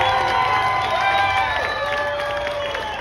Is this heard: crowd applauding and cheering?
yes